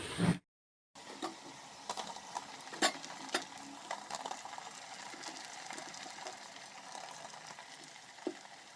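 Onion, green chillies and whole spices sautéing in a pan, a close, steady crackling sizzle with scattered sharper pops and stirring clicks throughout after a brief moment of silence at the start.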